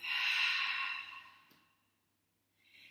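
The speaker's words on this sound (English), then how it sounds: "Take a big inhale through the nose, releasing exhale through the mouth" A long, breathy exhale released through the mouth during a yoga breathing exercise, close and steady for over a second before fading, followed by a brief pause and the start of another soft breath.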